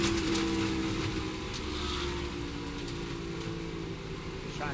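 A NASCAR Cup race car at the 2024 Great American Getaway 400, slowing after a light tap of the wall, its engine droning steadily and easing down in pitch, loud and close throughout.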